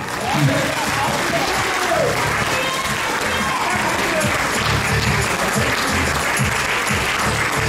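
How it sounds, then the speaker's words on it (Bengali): An audience applauds steadily and loudly throughout after a Durga Puja stage play, with the dense clapping holding at an even level and crowd murmur beneath it. "আপনাদের ভালো লেগে থাকলে সবার জন্য একটা হাততালি হয়ে যাবে।"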